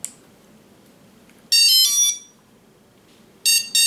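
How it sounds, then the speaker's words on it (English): A quadcopter's ESCs sound throttle-calibration beeps with a 3S LiPo connected: two loud bursts of bright, high electronic tones separated by a quiet pause, the first burst longer than the second. "you will hear a long beep, that means the motors has been calibrated"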